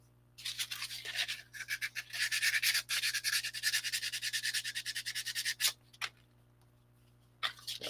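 Hand sanding a puppet under construction, moving from one grit of sandpaper to a finer one: a steady run of quick, rhythmic scratchy rubbing strokes, close and fairly loud, breaking off in short pauses with a few isolated scrapes near the end.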